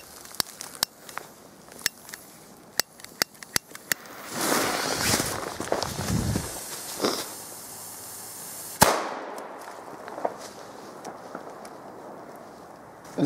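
Helios Kubi firecrackers go off in a snowy forest as a rapid string of sharp cracks, followed by a denser crackling burst and one louder bang, then fading outdoor quiet.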